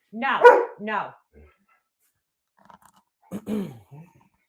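A dog barks loudly nearby, two sharp barks, then a quiet pause before another short burst of barking.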